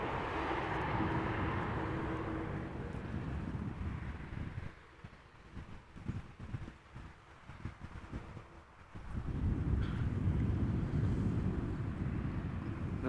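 A jet airliner roars close by at the northern threshold of runway 18 Right, the Polderbaan, at Amsterdam Schiphol, an 11-year-old aircraft; loud broadband rumble dips mid-way with buffeting wind noise, then swells again strongly.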